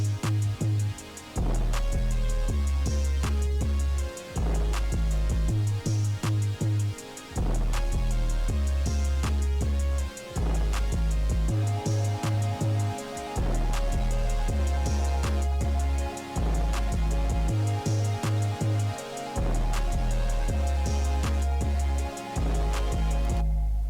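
A beat with an 808 clap and simple hi-hats over booming bass and a melody, steady loud looping pattern with crisp high ticks throughout, no voices.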